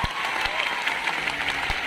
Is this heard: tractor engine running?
no